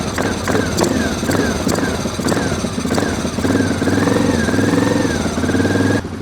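A Suzuki King Quad 750 ATV engine runs on first startup after a top end rebuild, a loud steady close-up rumble with sharp periodic clicks and revving swells throughout.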